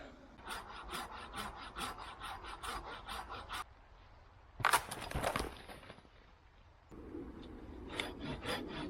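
A knife shaves feather sticks from split firewood in a woodland camp, giving quick repeated raspy scraping strokes up close, a short pause, a louder crack of wood, then more rhythmic scraping.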